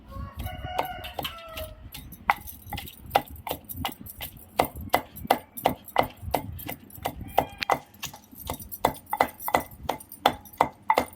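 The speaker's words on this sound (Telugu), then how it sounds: "ఇందులోకి ఫ్రై చేసుకున్న చింతపండు, ఉడికించుకు పెట్టుకున్న చింతపండు వేసి దంచాలండి" Tamarind, salt and green chilies pounded in a stone mortar for guava chutney, a steady run of sharp, close, rhythmic thuds with roosters crowing and hens clucking in the background.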